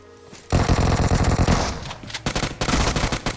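Rapid automatic gunfire in a competitive pro league video game match, loud and close, starting abruptly after a brief lull and continuing in dense bursts with short gaps.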